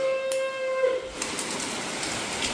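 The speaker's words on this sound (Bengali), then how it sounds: "এখন প্রচণ্ড জোরে নামিয়েছে বৃষ্টি" Heavy rain falls outside as a dense, steady hiss, preceded by a brief high tone at the start.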